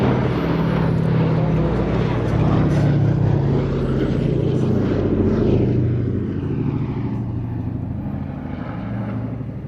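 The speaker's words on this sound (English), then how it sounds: "This is a privately operated, four-engined heavy bomber, and there aren't any more of those in Europe other than this one." A privately operated four-engined B-17 heavy bomber passes with a loud, throbbing piston-propeller drone that stays strong and then fades slightly toward the end, with voices faintly present underneath.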